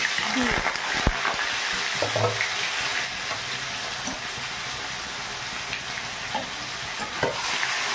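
Marinated meat for a pea and potato ghugni hits hot oil in a pan and fries with a loud, sustained sizzle. Occasional stirring clatters and scrapes break through the sizzle, and no one speaks.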